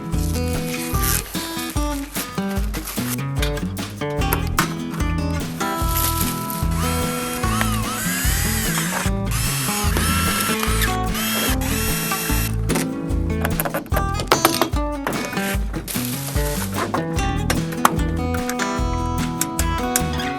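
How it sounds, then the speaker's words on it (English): A power drill whirring in repeated bursts, its pitch rising and falling as it bites in, with rattling and clattering between runs. "I'm going to start just drilling holes where we need to drill holes."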